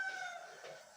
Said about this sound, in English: That's my dog chasing a chicken in the garden.